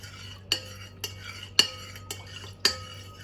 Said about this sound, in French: Je mélange bien pour que le sel se dissout